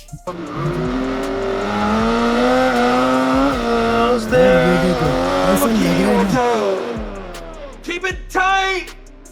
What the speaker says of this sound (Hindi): देखते हैं कि हमारी जो निसान GT-R है वो ड्रिफ्टिंग कैसे करेगी